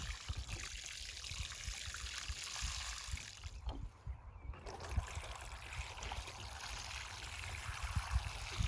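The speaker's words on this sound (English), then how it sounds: "So now we're going to soak them in really good." Freshly planted seedlings in a 4-H garden plot being soaked with water, a steady trickling stream running continuously at close range with a brief dip midway, no voices.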